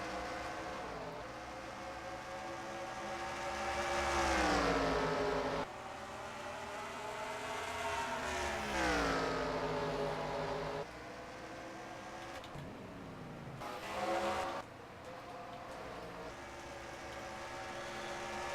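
Video game race cars roar around the Bristol short track, a dense continuous engine drone with rising and falling pitch sweeps as cars pass and accelerate, loud and steady throughout.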